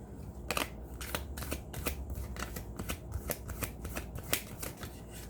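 Oracle cards are shuffled close up in a quick series of riffling flicks and slaps, irregular and continuous over several seconds.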